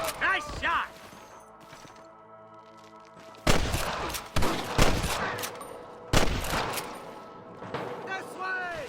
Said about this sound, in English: I hear more gunshots.